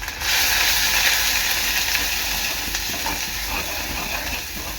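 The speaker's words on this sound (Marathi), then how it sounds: "आगरी कोळी मसाला मसाले चांगले आता तेलात शिजवून घ्यायचे आहेत" Agri Koli masala spices cook in hot oil, a dense steady sizzle that starts abruptly and then eases slightly, with faint scraping and stirring clicks underneath.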